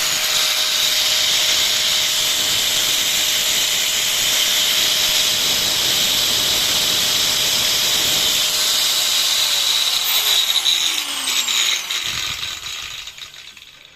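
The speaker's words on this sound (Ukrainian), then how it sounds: "Болгарка на 980 Вт." A loud, steady high-pitched whine of a 980 W angle grinder running continuously, then winding down and fading near the end.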